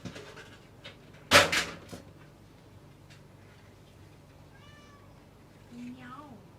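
A hungry cat meows a few times, short rising calls in a quiet room, with a sharp louder noise and brief human voice near the start.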